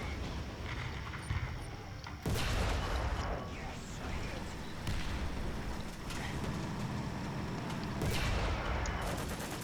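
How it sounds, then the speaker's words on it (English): Cannon and machine-gun fire with ricochets in a War Thunder air battle, a dense, loud stream of gunfire punctuated by sharper bursts around the middle and near the end. "Ricochet."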